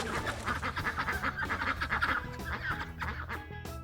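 A crowd of ducks quacking continuously at feeding time as they are fed bread, many calls overlapping close by in a busy, chattering chorus.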